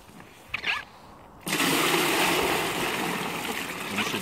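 After a brief clatter, water begins pouring at about one and a half seconds and keeps rushing steadily and close by until the end.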